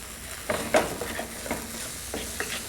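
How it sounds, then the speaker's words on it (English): Fresh coriander, salt and green peas are stirred in a sizzling pan, with a few distinct scraping strokes over a constant frying hiss. "our fresh coriander, some salt, our green peas. Stir all that in."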